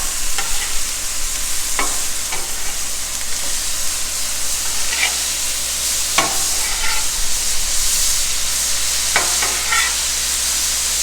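Burgers sizzle steadily on a Blackstone griddle set to low heat, a loud continuous frying hiss close by, punctuated by several scraping clicks of a spatula as the patties are turned, with no voices.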